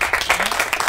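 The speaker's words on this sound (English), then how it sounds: "big round of applause to our park staff" An audience at a District 6 San Isidro town hall meeting claps for the park staff, a short burst of dense, steady applause with faint voices mixed in.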